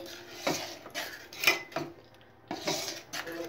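Green chillies cooking with salt in a pan are stirred, giving a run of scraping, clinking spoon-on-metal strokes in bursts with brief pauses, close and moderately loud, with no talk.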